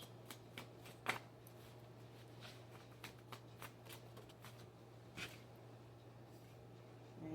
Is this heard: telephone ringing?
no